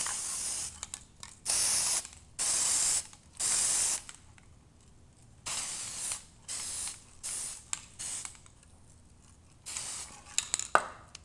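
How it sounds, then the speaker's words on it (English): Repeated short bursts of aerosol spray paint on an airsoft gun, about nine hissing blasts of a second or less with brief pauses and a few small clicks near the end. "so you're just going to want to spray paint, not too much."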